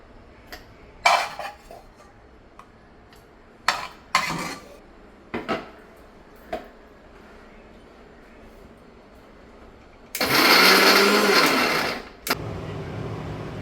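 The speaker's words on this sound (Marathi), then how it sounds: "ते आता मिक्सरमध्ये टाकून वाटूया" Roasted masala for a village chicken curry ground in a kitchen mixer grinder: a loud roaring burst of about two seconds near the end, preceded by scattered clinks and knocks of utensils.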